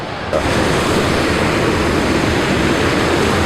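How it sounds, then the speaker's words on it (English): A loud, constant roar of rushing water fills everything, dense and unbroken, from waterfalls heard up close in the Rumbling Bridge Gorge. "It's very loud here beside the waterfalls and in this gorge."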